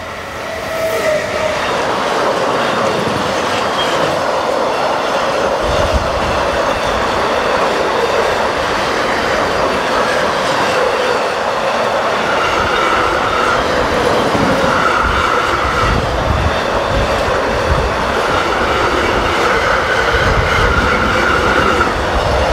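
A class 193 electric locomotive hauls a freight train from Bremen to Ingolstadt, a loud sustained rumble of passing wagons with steady clickety-clack and occasional wheel squeal, close by and without voices.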